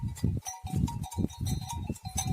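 Sakız crossbreed sheep on a farm, several overlapping bleats and calls coming in quick bursts, fairly close and lively, with no talk over them.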